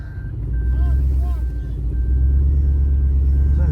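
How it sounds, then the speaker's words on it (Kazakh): Vehicles drive through floodwater on a flooded road near Kulsary, Atyrau, with a continuous low engine rumble and water wash, periodic electronic beeps, and people talking over it. "Машина қозғалып жатыр да?"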